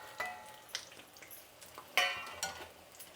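Lentil vadas frying in a pan of hot oil, a steady soft crackle and sizzle close by with a few brief louder bursts, no talking.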